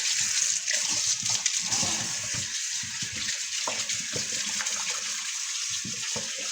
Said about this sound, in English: Now we're going to start washing this again with the salt on it.